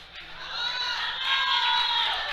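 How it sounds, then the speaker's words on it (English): A crowd at a men's bench press competition shouts and cheers loudly and continuously, a dense wall of voices rising in the background. "Hear the shouts in the background."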